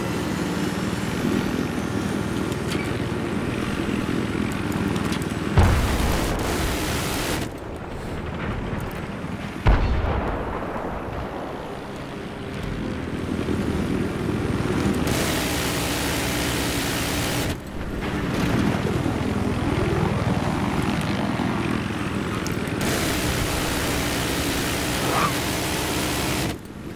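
A helicopter in a flight video game roars with dense rotor and engine noise. Sharp impacts and abrupt cutouts break in, suggesting crashes between loud stretches, with no voices.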